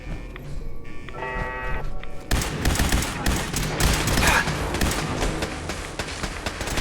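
Automated turret gunfire in the video game Fallout 4, a dense, continuous rattle of rapid shots with loud bursts, following a brief electronic beeping tone.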